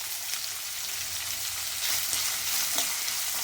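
Onion, curry leaves and green chillies fry in hot oil, a steady hissing sizzle with scattered crackles and faint stirring, heard up close with no talk.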